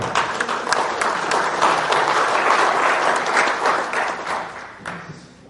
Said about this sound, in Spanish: recibamos a cada uno de ellos con fuertes votos de aplauso.